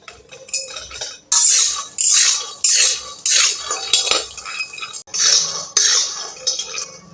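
Peanuts frying in a pan over a low gas flame, stirred in a series of loud, close rattling and scraping strokes separated by brief pauses.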